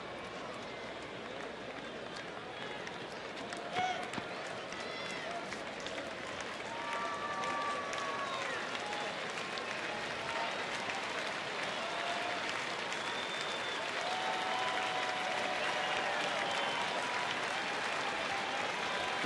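A baseball stadium crowd at an Oakland at Texas game applauds steadily, a broad sustained clapping wash heard from a distance, rising slightly over time, with a commentator talking over it.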